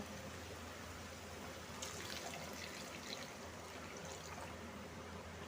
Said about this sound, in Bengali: এবার এর মধ্যে পানি দিয়ে দেব।